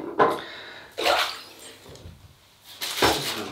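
Water splashes up from a basin to wet the face before shaving, three close splashing surges separated by brief quieter gaps of trickling and dripping.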